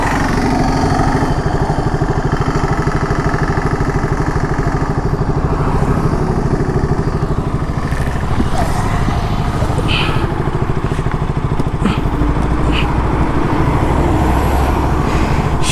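A KTM Duke motorcycle engine runs steadily after a crash on a trip to Vagamon, a close, rough, continuous mechanical rumble with occasional clicks and knocks as gears are tried.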